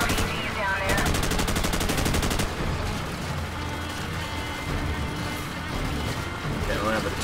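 M1911 pistol shots crack amid rapid gunfire and explosions in a Call of Duty 4 firefight, loud and dense, with a burst of fast automatic fire and someone talking over the action.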